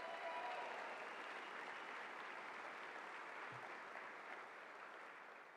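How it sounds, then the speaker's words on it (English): Steady, dense applause from a crowd at a university convocation, heard at a distance and fairly faint, continuing evenly throughout with no voices on top. "Let's give them a nice round of applause."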